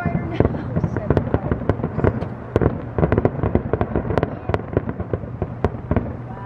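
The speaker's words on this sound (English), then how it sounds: "Memorial Day fireworks." Memorial Day fireworks burst in a rapid string of sharp, loud bangs and crackles over several seconds, with people's excited voices mixed in.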